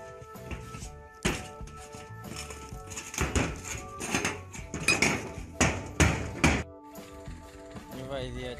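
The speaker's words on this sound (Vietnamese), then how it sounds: "sử dụng cái khoan may mắn vít này, bắn này" Power drill driving screws into a metal roof while mounting solar panels on mini rails, giving sharp repeated bursts and knocks close by, with voices talking in between.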